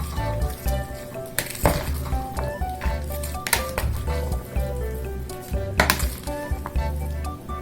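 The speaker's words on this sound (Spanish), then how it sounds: "Agregamos nuestra vinagreta a nuestra carne y lo vamos a mezclar muy bien." Beef for salpicón being mixed with vinaigrette: wet squishing and stirring with clinks of a utensil against a bowl, steady and close, with a few sharper knocks.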